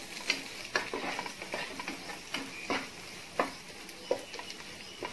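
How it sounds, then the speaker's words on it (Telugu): Onions frying in a pan to golden brown for dal makhani, heard as a steady soft sizzle with irregular scraping and stirring ticks over it. "వీటిని గోల్డెన్ బ్రౌన్ కలర్ వచ్చేలా మనం ఫ్రై చేసుకోవాలి"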